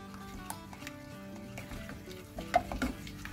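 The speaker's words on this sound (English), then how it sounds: "Keep mixing it until it comes out to be a very nice and smooth paste." Hot chocolate paste is stirred in a pan just off the heat, soft scraping and faint sizzling under a low musical background, with a few louder knocks of the spoon near the end.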